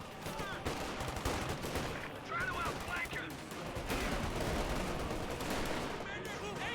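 Rapid bursts of .50 cal machine gun fire in a Company of Heroes 2 match, rattling steadily amid other battlefield gunfire and explosions, with a commentator talking over the action throughout.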